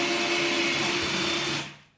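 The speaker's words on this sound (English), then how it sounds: "Now to start off, I'm gonna just drill some starting holes." A power drill bores starting holes in a wooden couch table, a close, steady whirring buzz that runs for about a second and a half before winding down and stopping.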